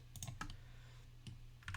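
Quick, light mouse clicks while selecting edges of a low poly sign model in Blender, a few soft taps in two short bursts, close and fairly quiet against a faint steady hum.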